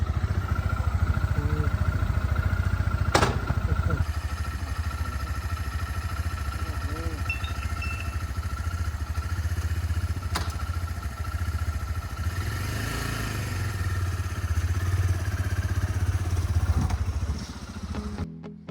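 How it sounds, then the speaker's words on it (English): A cheap used motorcycle idles with a steady low engine rumble close by, running continuously for nearly twenty seconds, with a few brief clicks and clatters on top. "Let me give you a taste of the motorcycle's sound."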